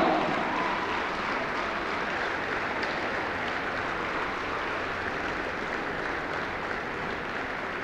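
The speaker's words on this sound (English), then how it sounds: "a great big round of applause for the N.E.W. Lutheran Blazers" Crowd applause at a Division 5 girls basketball sectional final, steady sustained clapping filling an indoor gym, fairly distant and even throughout.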